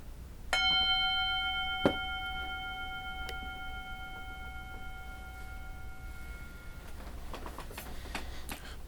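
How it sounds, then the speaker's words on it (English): A bell struck once during a Buddhist talk rings out clearly, its bright layered tones sustaining and slowly fading for several seconds in a quiet room. A small knock follows soon after. "I'm going to ring the bell and I'm going to ask you to listen carefully."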